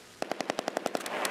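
Rapid automatic gunfire from the wartime strategy video game Close Combat 2, a quick burst of about nine evenly spaced sharp shots, loud and close with no talk.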